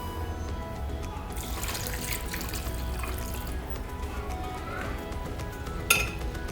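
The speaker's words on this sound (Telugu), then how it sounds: "ఇలా వేసుకున్న సొర ముక్కల్లో వాటర్ వేసుకొని" Water pours into a cooking pot of cut bottle gourd pieces for a Telugu sora chepa pottu dish, a steady close splashing rush that swells midway, then eases, ending with a single metallic clink.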